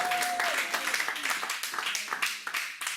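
A church congregation claps and applauds during a French-language worship service, a brief burst of scattered, lively hand clapping close by with a voice singing or calling over it.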